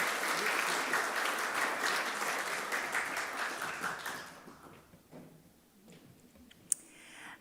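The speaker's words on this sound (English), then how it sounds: "We'll give her another round of applause." An awards ceremony audience claps in a dense, steady wash of applause that holds for about four seconds and then thins out to scattered claps, followed by a quieter room and one sharp click.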